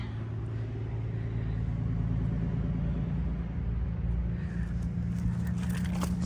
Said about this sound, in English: Traffic's going to be busy like right now because there's so much construction going on at Eastport.